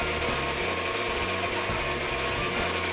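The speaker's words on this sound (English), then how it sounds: "We got the large grinder going, and we just start taking our cuts" A large electric meat grinder runs loud and steady throughout, a dense continuous motor roar with an unbroken whine and no voices, as cuts of meat are processed for cured and smoked sausage.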